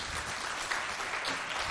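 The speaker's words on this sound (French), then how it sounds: "Applaudissez pour vous." Children applaud themselves at a school quiz competition, a short, fairly quiet wash of continuous clapping from a group.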